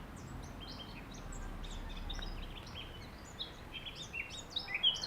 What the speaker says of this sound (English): just as the birdsong does